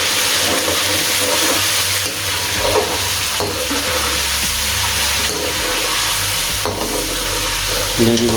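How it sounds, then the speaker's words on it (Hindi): Finely cubed boneless chicken fries and gets stirred in a pot, a steady loud sizzle broken by repeated scraping stirs and clatter from the spoon. "ये हमने इसके अंदर डाल देना और इसको अच्छे तरीके से मिक्स करते हैं।"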